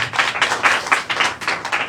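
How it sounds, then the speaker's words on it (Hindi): An audience claps in a short burst of about two seconds, the claps close and fairly loud, coming in uneven waves. "ताली बजाओ उसके लिए।"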